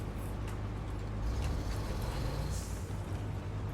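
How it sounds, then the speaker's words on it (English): A gasoline truck engine in SnowRunner drones with a steady low rumble, loud and continuous, with a slight swell in the middle and no talking. "This almost sounds like it's a gasoline truck"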